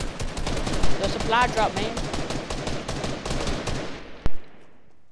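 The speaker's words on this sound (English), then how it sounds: "What are y'all shooting at?" Rapid bursts of gunfire in a video game, dense repeated shots with a final sharp single crack before it falls quiet, with a voice speaking briefly over the shooting.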